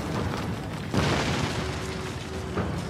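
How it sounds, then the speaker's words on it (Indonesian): Explosives detonating inside a palace in a ninja film: a sudden loud blast hits about a second in, its rumbling roar carrying on, with a second sharp burst near the end. "dia telah meletakkan beberapa peledak di dalam istana lalu meledakkannya"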